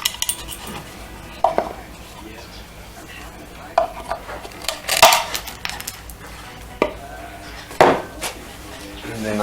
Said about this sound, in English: And then the excess I just chop off with some side cutters.